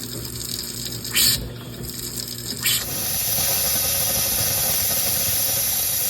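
Water gushing and hissing out of Poly-B plumbing pipe during a coupling replacement, starting with a few bursts of spray then settling into a steady loud rushing flow.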